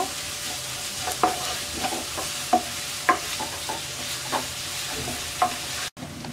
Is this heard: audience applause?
no